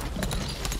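Quick hoofbeats from a horse in the video game Lost Ark clip-clop steadily in a short burst, close and clear.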